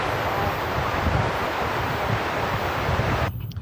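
Strong outdoor wind buffets a microphone on a tripod at a busy airport plane-spotting spot, producing loud continuous rumbling gusts that cut off abruptly near the end.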